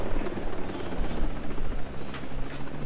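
Helicopters flying nearby, a steady broadband rotor and engine drone holding at fairly loud level throughout without talk.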